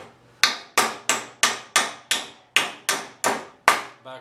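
Sharp hammer blows straightening nails pulled from old pallet wood, about ten loud, evenly spaced strikes, each ringing briefly before the next, with nothing else heard.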